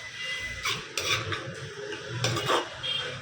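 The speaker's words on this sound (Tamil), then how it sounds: "அப்போ நம்ம ஐட்டம் உள்ளே இறங்கியிருக்காப்புல, நல்லா கிண்டிக்கணும்." A spoon stirs food in a cooking pot, making a few close scraping and clinking strokes in uneven bursts over a low background.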